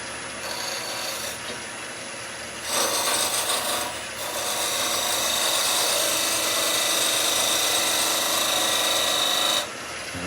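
Parting tool cutting into wood spinning on a woodturning lathe, a close, steady scraping rasp over the lathe's hum that grows rougher partway through, then stops, with no talk.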